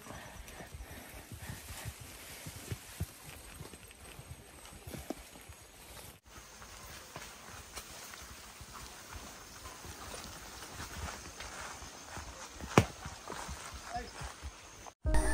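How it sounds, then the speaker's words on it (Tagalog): A horse walks along a trail, its hooves clip-clopping in a steady rhythm. The sound is quiet and distant, with faint background voices and outdoor ambience. "Kasi yung kabayo kasi hindi naman siya tumatakbo at ang lakad lang din yung kabayo."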